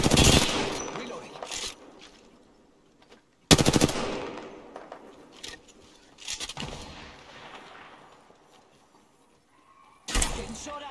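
Video game gunfire in an online shooter, a few loud, close bursts of automatic fire separated by quieter stretches where the shots trail off.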